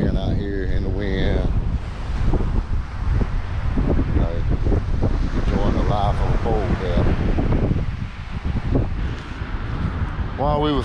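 Strong wind buffets the microphone at a coastal lookout on the west coast, a loud, gusting roar with surf-like rumble throughout, while people talk underneath it.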